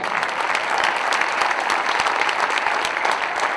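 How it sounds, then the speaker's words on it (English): Sustained, dense applause from a large crowd greets baseball players being introduced at a Cardinals caravan event, a steady loud roar of clapping with no talk over it. "How about a big round of applause for Tom Wallace?"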